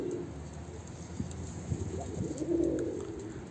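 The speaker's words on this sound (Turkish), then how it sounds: "Güzel kuşlar." Soft, low cooing from pigeons over a steady background hum, growing a little louder toward the end.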